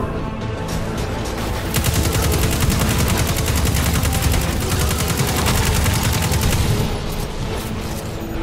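Gunfire in the video game Destiny 2, dense rapid bursts of automatic shots rattling continuously for several seconds, loud and close, then tapering off, with no talk.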